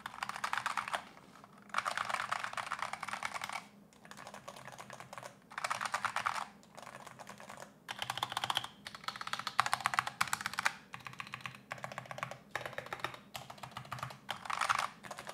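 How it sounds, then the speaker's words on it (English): Continuous fast typing on an Arbiter Studio Polar 65 mechanical keyboard with magnetic switches and an aluminum plate, close and crisp, in dense bursts with brief pauses, no voices. "comparing the sound of this keyboard to the new Razer Huntsman"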